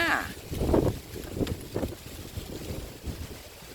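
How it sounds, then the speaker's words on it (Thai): Strong wind gusting near open water, a rough, blustery roar with buffeting on the microphone that surges and eases, and a faint voice at the start. "ลมแรงมากเลยค่ะ"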